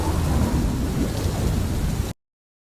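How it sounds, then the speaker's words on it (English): Outdoor rain with rumbling thunder, a dense steady downpour and deep low rolls that cut off abruptly after about two seconds. "Because it was raining outside on the wrong time."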